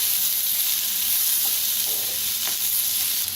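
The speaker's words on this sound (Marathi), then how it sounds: "कांदा इथे लगेच भाजला जातोय" Onion frying in mustard oil, a loud, even sizzle close up that runs throughout with a couple of faint utensil ticks and no talking.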